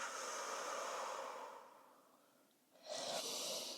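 A long exhale during a twisting stretch on a Balanced Body Allegro 2 Pilates reformer, a soft airy whoosh that fades out, followed after a short pause by a sharper breathy rush, close to the microphone with no talk.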